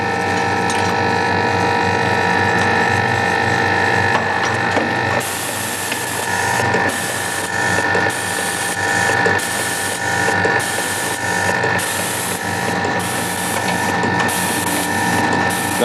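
A thermal fuse solder assembly machine runs loudly and steadily, indexing a magazine of fixtures as its elevator rises, with a constant mechanical hum overlaid by repeated ratcheting clicks and clatter at a regular rhythm.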